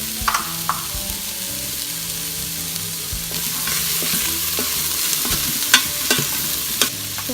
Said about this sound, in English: add some salt and give it a good mix.